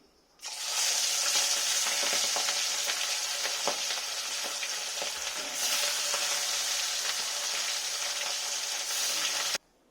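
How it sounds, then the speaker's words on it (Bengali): Steady, loud sizzling of catla fish frying one by one in hot oil, a continuous crackle with occasional spits and pops, close by and without talk. "এবার আমি মাছগুলো একটা একটা করে ভেজে নেব"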